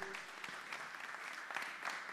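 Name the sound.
audience applause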